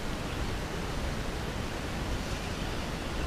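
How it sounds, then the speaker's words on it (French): Water runs along a bank of the Loire as a soft, steady rushing wash, faint and continuous, with no voices or other sounds over it. "vous allez même entendre le bruit de l'eau qui court à côté."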